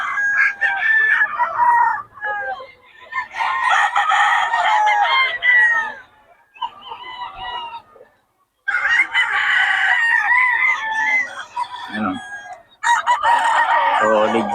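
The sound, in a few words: lemon sweater gamefowl roosters crowing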